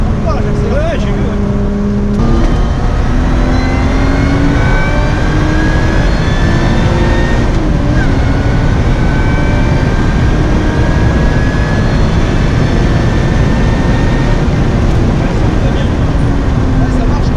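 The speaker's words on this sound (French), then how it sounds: "Et là, je roule pas, j'accélère." Lotus Exige V6 accelerating hard on a race track, its engine note climbing steadily in pitch as it pulls through the gears, loud and continuous with wind and road roar, while people talk over it inside the car.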